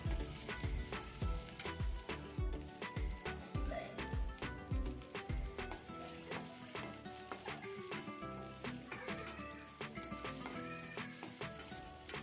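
Ginger-garlic paste sautéing in a pan for homemade masala vegetable pasta, soft sizzling with repeated rhythmic scraping and stirring knocks up close, the taps thinning out in the later seconds.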